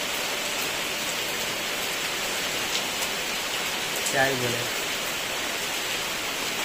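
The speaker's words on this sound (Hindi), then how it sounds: "इतना तेज बारिश होने लगा" Steady, dense rain pours down in a constant hiss, with a brief spoken phrase heard partway through.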